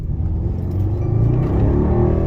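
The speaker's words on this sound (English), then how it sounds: "we're gonna do a quick acceleration test" A Mercedes E63S accelerates hard from about 47 mph, its engine rumble swelling loud and steady in a continuous rising roar heard from inside the car, with no talking.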